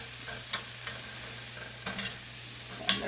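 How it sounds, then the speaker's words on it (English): Onion sautéing in a frying pan over medium-low heat for corned beef hash, a soft steady sizzle with a few faint scrapes and clinks, quiet and close. "And we're going to let this saute."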